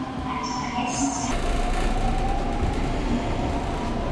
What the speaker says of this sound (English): There it is, the metro.